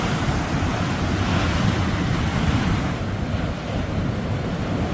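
Rough sea surf crashing and roaring continuously under strong wind, with heavy wind buffeting on the microphone and a slight dip in intensity partway through, no voices.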